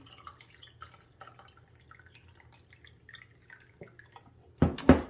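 Faint drips and small liquid trickles come first, then a brief, louder splashing pour of iced green tea with lemon and mint leaves into a glass near the end.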